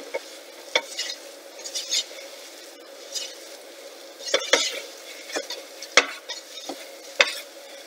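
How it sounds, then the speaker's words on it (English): A spoon scrapes and stirs a thick roux for Canadian cheddar cheese soup in a pot, with irregular sharp scraping strokes over a soft, steady sizzle, close and alone without talking. "I'm gonna stir this until we make our roux, which is gonna be like a really thick paste."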